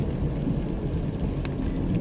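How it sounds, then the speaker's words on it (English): Heavy rain pours steadily outdoors, a dense, continuous hiss and low rumble at even loudness throughout, with no voices over it. "Oh my god, it's really raining like crazy."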